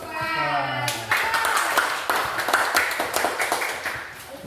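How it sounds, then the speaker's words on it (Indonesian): Children clap hands in a Qur'an teaching class, starting after a brief spoken prompt and then a series of sharp, near claps in an uneven rhythm, with voices briefly overlapping. "Tepuk tangan dulu."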